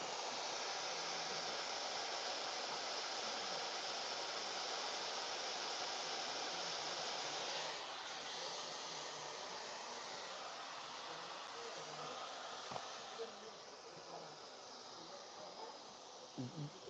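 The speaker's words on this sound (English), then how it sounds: "turn the dryer on for her" A salon hair dryer blows in a steady, faint hiss that holds throughout, easing slightly in the second half as small clicks and handling noises come through.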